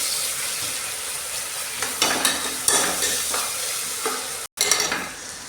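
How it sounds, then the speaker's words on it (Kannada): Onions fry until golden with cardamom and cloves for egg biryani, a loud steady sizzle punctuated by repeated spatula scrapes against the pan, with a brief dropout before the frying resumes; no talking. "ಈರುಳ್ಳಿ ಚೆನ್ನಾಗಿ ಫ್ರೈ ಆಗಿದೆ."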